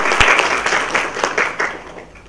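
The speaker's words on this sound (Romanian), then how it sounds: "Vă rog frumos să-l ascultați, să-l aplaudați, să-i urăm bun venit" Scattered clapping from a university lecture audience welcoming a guest speaker, a few sharp claps in a brief burst that fades quickly.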